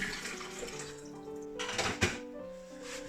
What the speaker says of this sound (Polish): Pierwszą rzeczą, jaką robię, to zagotowuję wodę.